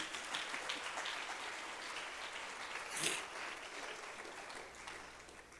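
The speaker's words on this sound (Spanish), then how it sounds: "Denle una ofrenda de palmas a Dios," A church congregation breaks into steady applause that fills the whole stretch at an even level, rising briefly in the middle, with no voices over it.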